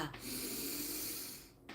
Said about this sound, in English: start breathing in through your nose and out through your mouth